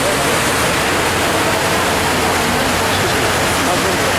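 A large waterfall in New York City roars steadily and loudly, a dense, unbroken rushing wash that fills the whole stretch with no pauses.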